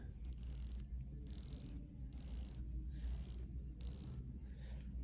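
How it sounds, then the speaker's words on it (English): A Grand Seiko Hi-Beat diver watch bezel is turned in five quick bursts of fine, crisp ratcheting clicks, each about half a second long and separated by short pauses, close-up and quiet over a low background hum. "let's go over the bezel action"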